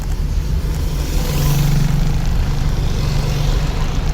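A car engine drones loudly and steadily while driving, with a strong low hum that swells in pitch as the throttle is raised, and no talk over it.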